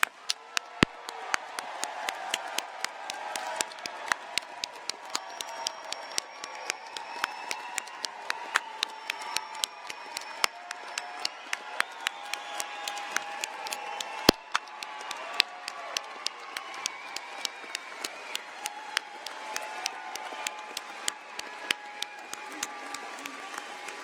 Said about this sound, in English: judging from the applause